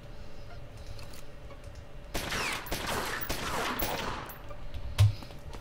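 Gunfire in the gangster strategy game Omerta: City of Gangsters, a burst of rapid shots over roughly two seconds followed by a single louder crack, set against a quiet game ambience with no talk.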